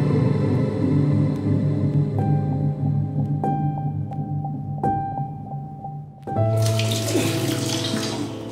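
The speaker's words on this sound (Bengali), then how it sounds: "বালতিতে জলগুলো ভর্তি করুন" Tap water running into a bucket, a steady rushing pour with a low rumble, interrupted by a few sharp clanks and resonant rings, then a louder, brighter gush of water near the end.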